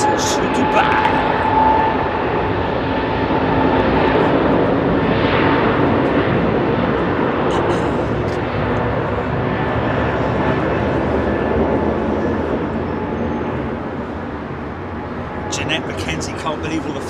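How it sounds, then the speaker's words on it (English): An Emirates Airbus A380 bound for Dubai roars steadily overhead at London Heathrow, a loud sustained broadband jet rumble that slowly fades toward the end. "380 Emirates to Dubai."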